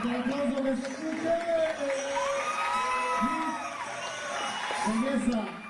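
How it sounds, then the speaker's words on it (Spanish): A pageant audience at Miss Bella Hispana 2007 cheers and whoops loudly, a dense, sustained crowd roar with shouting voices rising and falling throughout. "¡Fuerte el aplauso que se escuche!"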